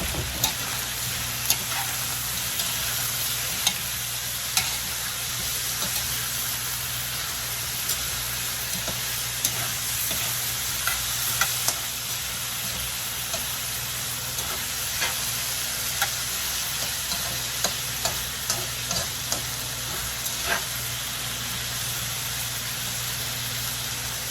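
Chopped onion frying in a pan for a green curry, a steady broadband sizzle with scattered stirring clicks and scrapes, close and continuous with no voices.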